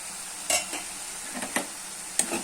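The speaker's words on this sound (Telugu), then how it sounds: "వంకాయలు పోపులో వేసి మగ్గనిచ్చుకొని" Brinjal pieces frying and being stirred in a tempering, heard as a few sharp scraping stir strokes over a faint, steady sizzle, fairly close and with no talking.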